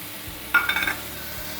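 A palak paste and soya chunks curry is stirred in a pan, giving a short burst of wet scraping and sizzling mixing sounds lasting under half a second amid quiet kitchen background.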